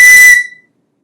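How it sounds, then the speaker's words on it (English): A pen cap is blown across to set up a standing wave that resonates inside a tube. It gives a single short, bright whistle tone that cuts off abruptly after about a third of a second. "definitely you'll be able to hear the standing wave"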